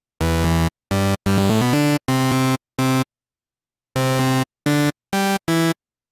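Synth lead melody in the style of a track: loud, buzzy, harmonically rich notes in short choppy bursts with a quick pitch-shifting run, separated by clean silences, alone without talk.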